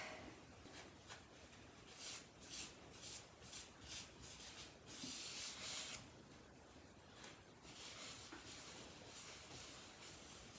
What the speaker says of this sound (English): Rub some of the wax in